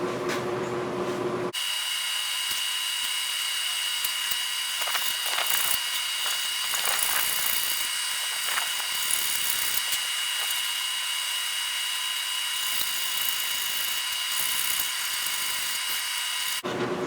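A triangular file scrapes back and forth along a forged knife blade in a workshop, making steady, gritty rasping strokes with a high metallic ring. It sounds close and continuous, with no talk.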